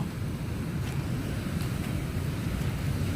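Large ocean waves surging against a shoreline fishing spot, a steady broadband roar with continuous wash and wind buffeting the microphone, close and loud with no voices.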